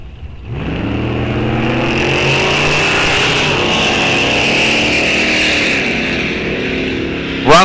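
A 1967 Chevrolet Nova drag car's engine at a fall drag racing event roars loud and close, holding a steady high-revving drone for several seconds before a final burst as it pulls away.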